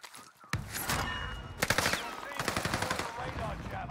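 Rapid gunfire in a shooter video game, bursts of automatic shots rattling close and loud, with a steady noisy game backdrop between volleys.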